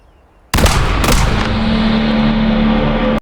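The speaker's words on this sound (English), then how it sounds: "Just as he steps outside, a gunshot suddenly rings out." A single loud gunshot cracks out in a film scene, a sharp close blast with a second quick burst right after, followed by a sustained ringing, roaring tail that holds until the end.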